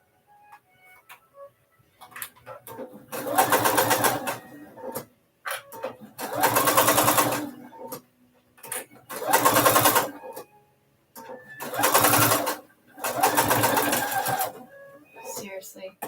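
A domestic sewing machine stitching a seam closed on a custom bag, running in five bursts of a few seconds each with short pauses between, close and loud, with light handling noise in the gaps.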